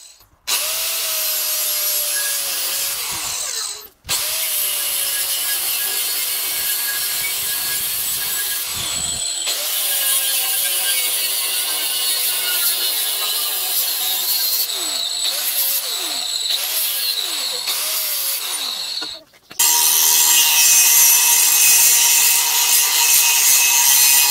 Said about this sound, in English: it's a little harder for me to get my angle grinder to cut straight